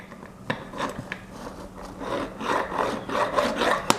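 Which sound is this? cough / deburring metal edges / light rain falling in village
deburring metal edges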